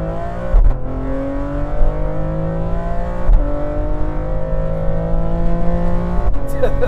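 An 830bhp BMW X3M with a one-off exhaust revs loudly and close by, its engine note rising and holding in sustained pulls with sharp blips between them, while people talk over it.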